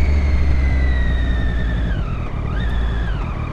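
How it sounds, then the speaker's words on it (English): A 2013 Triumph Daytona 675 sport motorcycle engine runs with a steady high whine that rises and dips in pitch over a constant low rumble, close and loud throughout. "it seems to have like a bit of a strange sort of almost whining noise to it"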